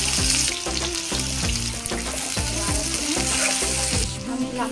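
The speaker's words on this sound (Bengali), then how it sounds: "কুচনো পেঁয়াজ দিলাম।" Chopped onion sizzles in the leftover oil used for frying pabda fish, topped up with fresh oil, making a steady close hiss with rhythmic tonal background music playing underneath.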